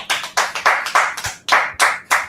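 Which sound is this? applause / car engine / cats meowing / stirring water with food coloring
applause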